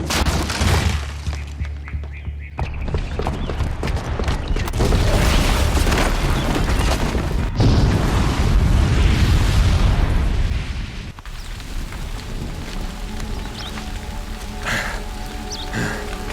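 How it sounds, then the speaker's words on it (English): A bomb detonates in the Horizon Zero Dawn video game, giving a long, loud rumbling blast with crackling debris that rolls on for several seconds before settling into quieter ambient noise. "the booby trap on the bomb downstairs is gonna get set off"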